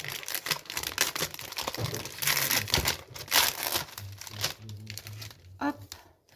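Decorative Poppy and Roses paper sheet peeled away from its backing, giving close crinkling and tearing rustles with a few short bursts, while someone talks throughout.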